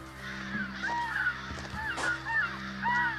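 Crows caw repeatedly while mobbing an owlet outdoors, harsh calls overlapping in an irregular, agitated chorus, fairly loud and close over a steady background hum.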